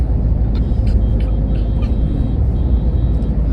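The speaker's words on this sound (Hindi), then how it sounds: "देखो देखो, सुबह सुबह हैदराबाद ट्रैफिक, हाईटेक सिटी, 8:15 बज रहा है, उसका भीड़" Morning rush-hour traffic around 8:15 in HITEC City, Hyderabad: a dense, continuous low rumble of engines close by, with brief higher-pitched horn-like bursts scattered through.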